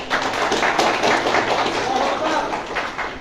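An audience at an Indonesian Islamic religious lecture claps together in a dense, steady wash of applause that holds at an even level from start to end, with no speech on top.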